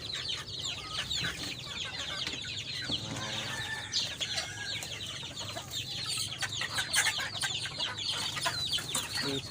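Several chickens cluck continuously over a steady outdoor background, with occasional louder calls and no talking.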